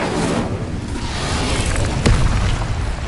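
The Incendio fire spell cast in Hogwarts Legacy on PS5, a dense roaring whoosh of flame that fills the whole clip, with a sharper burst near the end.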